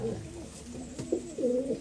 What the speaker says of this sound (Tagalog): Napakagandang ibon, mga Kala Brothers